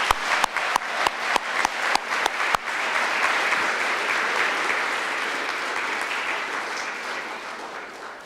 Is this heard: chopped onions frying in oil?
no